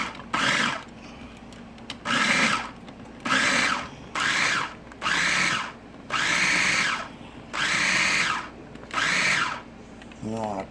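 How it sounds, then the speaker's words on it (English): Food processor pulsing bacon for broiled burgers, eight short loud motor bursts of about half a second each, separated by brief pauses, close and steady in rhythm. "I put my bacon in here, and I'm just wanting to pulse it a little bit"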